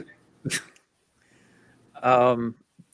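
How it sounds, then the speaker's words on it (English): A dog gives a short bark, then after a quiet pause lets out a louder, drawn-out whining bark nearby. "my dog's barking"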